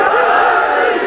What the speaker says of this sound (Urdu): اس میں جوان نعرے لگا رہے ہیں